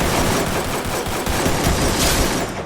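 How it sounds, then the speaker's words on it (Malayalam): Rapid automatic gunfire in the Free Fire video game, with dense, loud bursts of shots packed tightly together across the whole short stretch and no talk over it. "ചുമ്മാ ഒന്ന് വെടി വെച്ച ഗൈസ്, അടിച്ച് കിട്ടും ഗൈസ്"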